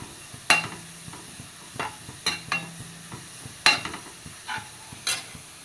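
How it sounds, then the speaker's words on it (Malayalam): Vegetables with a quarter teaspoon of fennel seeds sautéing in a pan for a jackfruit dish, heard as a steady soft sizzle broken by several scraping stirs of a spoon against the pan, close and alone. "നന്നായിട്ടൊന്ന് വഴണ്ടി വരട്ടെ."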